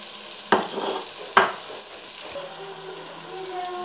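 Onions browned in a pan for masala bhindi, with tomatoes being added, sizzle softly while two sharp clatters of stirring or adding ingredients punctuate the frying.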